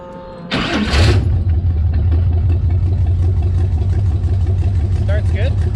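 A hot rod car engine is warm-started: a short burst of cranking catches, then the motor settles into a loud, steady rumbling idle close by.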